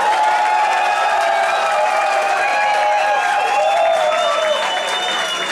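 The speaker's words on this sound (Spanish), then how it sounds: "Y por último, aplausos para Alexandra Daima" Continuous applause fills a talent-show studio for the final contestant called, dense even clapping with faint cheering tones above it, loud and steady for the whole stretch.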